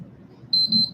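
An electronic alarm goes off in a room, two short high-pitched beeps in quick succession, loud and close over a faint low background hum.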